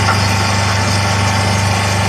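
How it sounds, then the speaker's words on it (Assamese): A machine runs steadily on water, giving a continuous droning engine hum with a low rumble that holds level and loud throughout, with no pauses and no voices. "পানীৰ ওপৰত মেচিন চলাই আছে"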